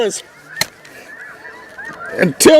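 Snow goose honking during a hunt in Missouri River bottomland, a few sharp, fairly close honks with a soft background chatter of distant geese between them.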